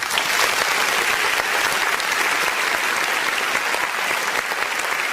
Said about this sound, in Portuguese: vamos nos despedir aqui do nosso convidado com uma salva de palmas que ele merece.